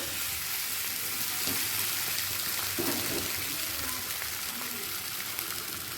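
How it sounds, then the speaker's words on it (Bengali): Hot water poured onto potatoes frying in spices: a steady loud sizzle with a brief gushing, bubbling surge partway through, close and continuous throughout. "এরপর দিয়ে দেব গরম জল"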